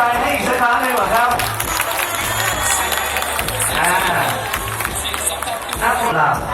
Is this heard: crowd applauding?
yes